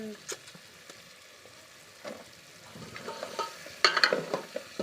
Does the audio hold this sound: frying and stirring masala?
yes